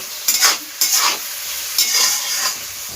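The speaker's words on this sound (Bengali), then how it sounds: "পেঁয়াজটা দুই থেকে তিন মিনিট আমি হাই ফ্লেমে" Onions sizzle over a high flame as a spatula scrapes through them in four or five quick, bright sweeps, close up and steady, with no voices.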